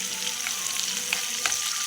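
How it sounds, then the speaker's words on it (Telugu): Tempering spices crackling and sizzling in hot oil for tamarind chutney, a steady close frying hiss with scattered sharp pops. "ఈ మొత్తం కలిపి కొంచెం కలర్ చేంజ్ అయ్యేటట్టుగా మనము తాలింపు వేసుకుందాం."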